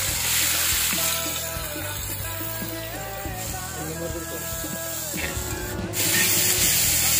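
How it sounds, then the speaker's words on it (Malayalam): Sliced onions sautéing in coconut oil in a pan, a steady frying sizzle with scraping stirs and clinks, rising louder near the end. "സവാള വാട്ടിയെടുക്കാം"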